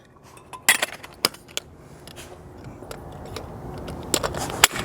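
A metal lid clanks shut on a camping cook kit nested with an MSR stove and a Bic lighter, giving a few sharp close metallic clinks spread among quieter rattles.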